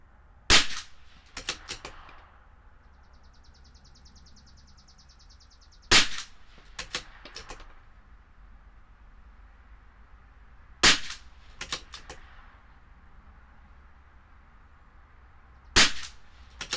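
Four sharp, loud .22 LR rifle shots from a CZ 457 LRP firing Eley Sport ammunition, spaced about five seconds apart outdoors, each followed by faint clicks and clatter of bolt cycling.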